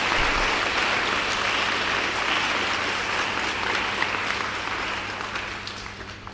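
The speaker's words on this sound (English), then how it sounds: "she needs a round of applause just to settle her nerves" Sustained audience applause fills a school prize-giving for grades 4 to 7 at St Dominic's in 2021, a dense steady clapping throughout that eases slightly toward the end.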